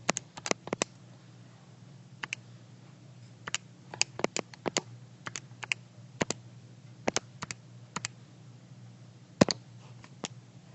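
Button presses on a graphing calculator while an equation is keyed in: sparse, sharp clicks spread irregularly across the stretch, some in quick pairs, over a faint steady low hum with no talking.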